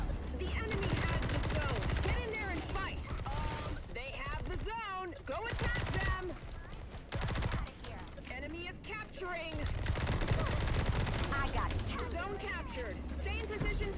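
Rapid bursts of gunfire from the video game Modern Combat Versus crackle repeatedly in a busy mix, with voices talking over the shooting.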